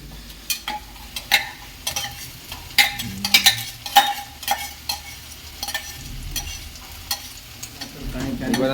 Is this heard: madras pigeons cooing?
no